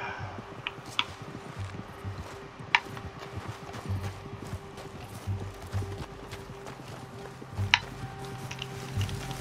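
Horse hooves clip-clop at a steady walk on the ground in the Red Dead Redemption 2 video game, a close, even rhythm of soft thuds over quiet ambient background with occasional sharper clicks.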